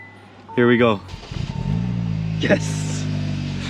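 A KIA Stinger's engine cranks and catches after a jump start, then settles into a steady idle nearby, with a person talking over the running motor.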